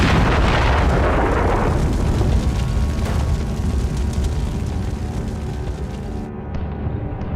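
A heavy, booming explosion of a tank in a war documentary about a Syrian assault, loud and broad at the start, then rumbling and decaying into a long fading roar.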